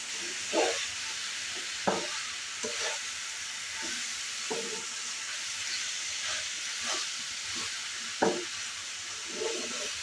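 Kurma curry is stirred in a cooking pot, with a constant sizzling hiss and several sharp scraping strokes of a spoon against the pot at irregular intervals, close and without talk.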